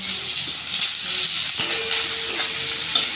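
Onion and chopped green chillies fry in a little white oil, giving a steady, close hiss of sizzling with occasional faint stirring scrapes.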